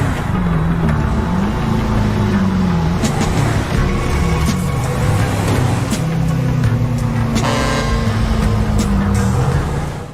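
A modified BJ car in the video game GTA runs with a more aggressive engine tone, a continuous loud rumble whose pitch rises and falls as it revs, heard up close with no voices.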